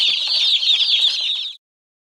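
Many young meat chicks, the season's first batch, cheeping shrilly together in a loud, continuous, high chorus at the post office, cutting off abruptly after about a second and a half.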